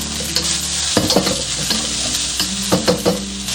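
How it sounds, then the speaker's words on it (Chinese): Cauliflower stir-fried in a wok with garlic whites in hot oil, a steady sizzle broken by repeated scraping and clattering strokes of a spatula against the metal, close and fairly loud with no talking. "我们先下入花菜，给它炒一炒哈，把它水分稍微炒一下。"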